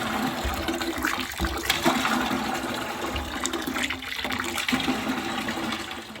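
Hand pump handle drawing water off-grid into a 5-gallon bucket, with a steady rushing pour running continuously at close range, slight surges in rhythm with the pumping.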